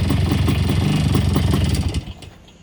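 A small motorbike engine fitted with a Chrisman spark arrestor exhaust runs loud and close with a rough, pulsing idle, then dies away and falls quiet near the end.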